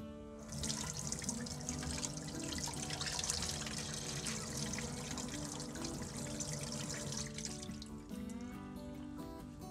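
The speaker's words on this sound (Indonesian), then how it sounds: "Siram dulu pakai air dingin." Cold tap water runs steadily over a moka pot, a continuous close splashing rinse that stays even throughout with no talking.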